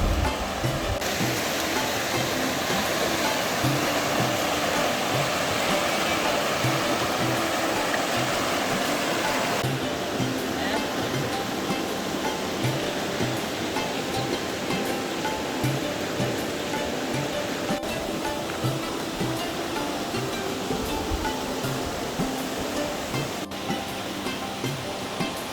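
River water flowing over rock carvings at Rivona in Goa, a continuous broadband rush of moving water, steady and fairly close, with no voices.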